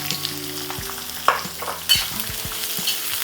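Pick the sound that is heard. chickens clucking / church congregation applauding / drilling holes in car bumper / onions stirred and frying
onions stirred and frying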